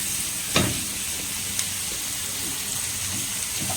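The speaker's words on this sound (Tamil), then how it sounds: "நல்லா வதங்கட்டும்." Vegetables sauté in butter in a pan for a paneer bread roll, making a constant close sizzling hiss with a couple of brief sharp pops.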